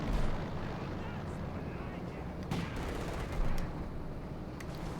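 Battle noise in the real-time strategy game Company of Heroes 2, with T-35 tanks and a field gun firing: dense rumbling explosions and sharp shots over a constant roar, with a commentator talking over it.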